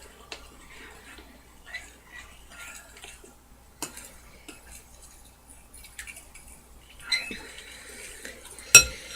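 Glue and a liquid solution being stirred together to make slime, a soft wet stirring with faint scrapes and clinks of a utensil against the container, ending in a sharper knock.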